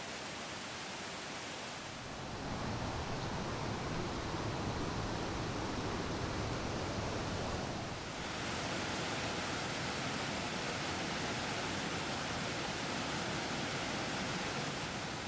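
A river swollen by a rainstorm on a Thai mountain rushes past as a dense, steady roar of broadband water noise that swells slightly and carries on with no voices.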